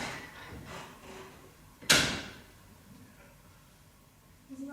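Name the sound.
door moving or banging in the wind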